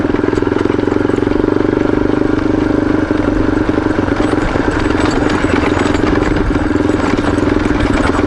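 A motorcycle rides along a pebbly dirt forest road near Suches, Georgia, with a loud, steady engine drone and constant gravelly rattle throughout.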